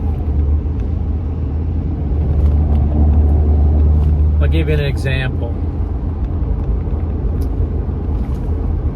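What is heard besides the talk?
truck engine rumbling while driving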